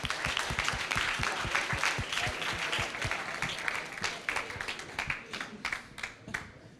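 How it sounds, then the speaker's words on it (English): An audience at a talk on breaking out of the man box applauds a volunteer named Thomas, many hands clapping in a thick, sustained burst that gradually thins into a few sparser, distinct claps near the end. "give him a round of applause"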